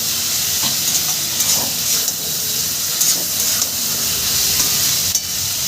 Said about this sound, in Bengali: আর দিয়ে দিলাম ভেজে রাখা আলুটা দুটো উপকরণ দিয়েই আমি এবার মশলাটা মশলার সঙ্গে সুন্দর করে কষিয়ে নেবো